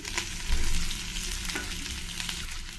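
Chopped onions and curry leaves fry in a pan with oil, a steady close hiss and crackle with stirring, surging briefly louder near the start and then settling into an even sizzle.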